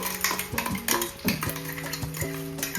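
Green masala for an egg curry being dry-roasted in a pan: quick, irregular scraping and clinking of a spoon against metal, with only a faint sizzle underneath.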